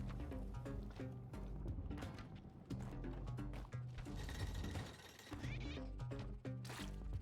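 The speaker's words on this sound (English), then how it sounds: "I hear the cat." A cat meows in a video game, heard over steady looping game music with bass notes. The meows are repeated and plaintive, rising above the music several times.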